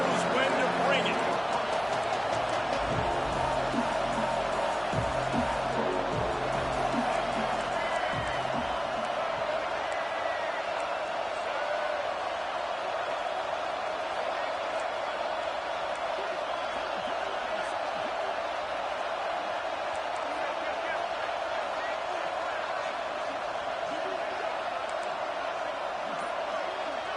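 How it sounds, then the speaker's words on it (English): A football stadium crowd roars steadily throughout, a dense, distant wash of noise that stays even in level, with a few sharper thumps and shouts early on. "This crowd knows when to bring it."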